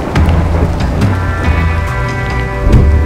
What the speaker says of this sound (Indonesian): hujan pun tak kunjung berhenti